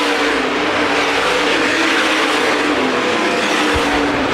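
Modified race cars circling Winchester Speedway in a 50-lap feature, producing a loud, continuous engine roar that holds steady throughout with no talk over it.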